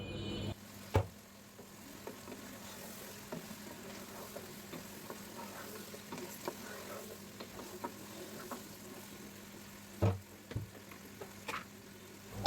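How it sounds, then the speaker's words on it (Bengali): Spices and ginger-garlic paste for mutton biryani sizzle steadily in a pan, with a soft continuous frying hiss broken by occasional knocks and scrapes of stirring, two clearer clanks standing out near the end. "আদা রসুন দেওয়ার পরও আমি এইভাবেই নাড়াচাড়া করে 2-3 সেকেন্ড পর পর মশলাগুলো মেশাতে থাকবো"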